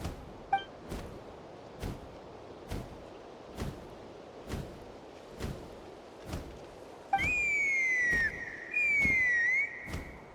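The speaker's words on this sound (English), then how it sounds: "That sounded like a whistle." A shrill whistle sounds twice in Genshin Impact, each blast sliding downward in pitch, over a steady series of regular dull thumps.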